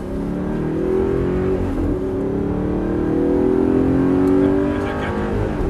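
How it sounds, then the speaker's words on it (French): Audi R8 4.2 accelerating hard after the clutch is released, a steady engine roar with rising pitch sweeps held throughout, heard from on board during track driving. "Allez, on débraque et on accélère."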